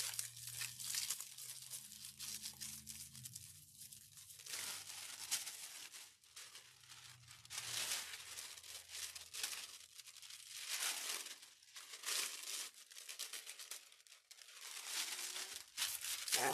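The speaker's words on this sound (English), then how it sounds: "if you ever feel like the foil is sticking really good, instead of just trying to rip it off, shake it a little bit, and that'll help release it as well" Aluminum foil peeled off a gazing ball craft project and shaken loose, giving ongoing close crinkling, tearing and rustling in bursts, faint overall, with a low hum underneath early on.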